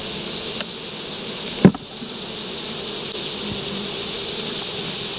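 A dense, steady drone of many agitated honeybees buzzing at a hive, with a sharp knock of hive boxes being banged together partway through and the hum continuing unbroken afterward.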